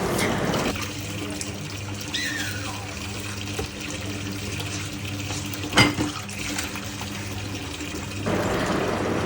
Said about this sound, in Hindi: फटाफट मैंने जो है सारे बर्तन साफ़ कर लिए